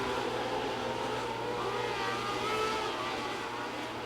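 Midget race cars roar together down the back stretch of a dirt track at Shelby County Fairgrounds. The engines drone loudly and steadily, slightly distant, with no break.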